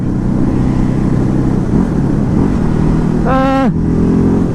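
A 2019 Ducati Hypermotard 950 motorcycle engine drones steadily and loudly during a ride, its low hum continuous throughout, with a brief voice-like tone rising over it near the end.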